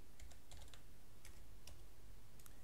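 Light, quick typing on a computer keyboard while entering text into a spreadsheet, with irregular clusters of crisp key clicks over faint background noise and no voices.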